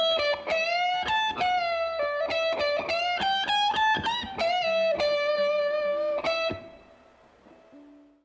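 Electric guitar plays a lick from a solo, a fast run of picked notes with rising string bends, ending on a held note that fades away, close and unaccompanied.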